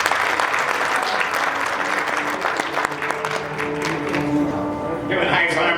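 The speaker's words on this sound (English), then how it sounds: "let's give them a round of applause." Sustained applause from a sizable graduation ceremony audience, continuous dense clapping with some voices mixed in, holding steady before a brief shift near the end.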